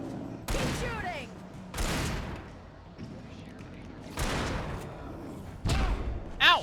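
Gunfire in the Alan Wake video game: a handful of sharp, loud shots spaced a second or more apart, each with a short ringing tail, with people talking between them.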